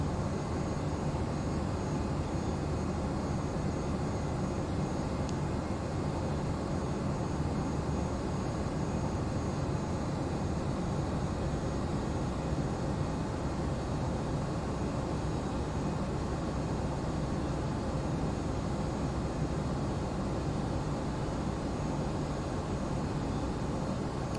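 An airplane takes off from runway 26 in a flight simulator game, with a steady, loud engine roar that holds unchanged throughout and no voices.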